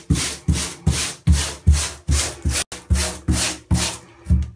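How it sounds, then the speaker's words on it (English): A scrubber brush works over white baseball pants in loud, rhythmic back-and-forth strokes, about a dozen rasping passes close to the microphone with brief gaps between them. "And a scrubber brush to help get it a little extra where you need it."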